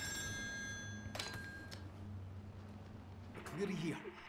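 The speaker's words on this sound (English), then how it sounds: "The phone is ringing." Telephone ringing inside a room in the horror game Still Wakes The Deep, a thin electronic trill heard at moderate distance under speech and low ambient drone.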